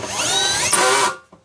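A Bosch cordless drill set to torque 12 drives a screw in one loud, brief whirring burst that rises in pitch, then stops abruptly and is followed by a faint click.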